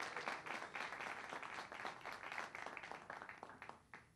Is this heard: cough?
no